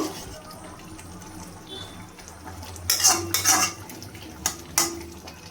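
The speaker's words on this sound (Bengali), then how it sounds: "এবার আমি ভালোভাবে নাড়িয়ে নেব।" Pabda fish curry in mustard-oil gravy being stirred in a pan, with a few scraping, clinking strokes of a spoon against the metal in bursts over a quiet kitchen background.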